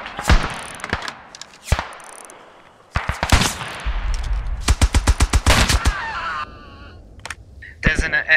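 Bursts of machine-gun fire from an MG nest in the WWI shooter Beyond the Wire, rapid loud volleys mixed with single gunshots and some distant shots, with a brief low rumble.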